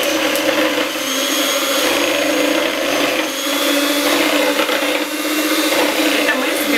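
An electric mixer whips cream for homemade ice cream, a loud, steady, close motor whine running the whole time with slight wavers as the beaters move through the bowl.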